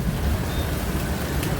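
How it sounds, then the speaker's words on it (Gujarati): Outside a pizza restaurant, rain comes down in a loud, constant wash of close drops with a low rumbling undertone, steady across the whole stretch with no voices. "પણ આ જો વરસાદ ચાલુ છે"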